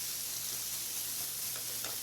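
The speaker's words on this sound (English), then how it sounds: "we have our potatoes sliced and quartered, and we're cooking those on a medium heat. I got a pound of sausage in here." Sausage and sliced, quartered potatoes fry in skillets over medium to high heat, giving a steady, close, continuous sizzle with faint crackles and no talk.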